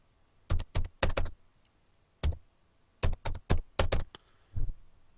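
Values are typed on a computer keyboard in clustered bursts of crisp, close key clicks separated by short pauses, with no voice over them.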